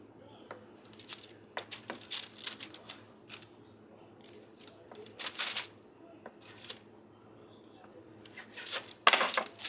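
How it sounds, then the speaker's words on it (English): A knife slices biscuit dough into quarters on a cutting surface, giving a series of soft, brief scraping and tapping cuts in an irregular rhythm, close and fairly quiet, with no talking. "What I'm going to do is cut each biscuit"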